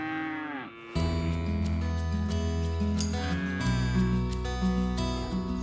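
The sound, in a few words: dairy cows mooing on farm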